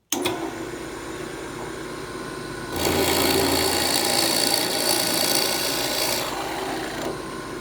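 A 1980s Jet drill press bores into wood, a steady motor hum with a dry rasping grind that swells louder midway as the bit bites in, then eases off near the end.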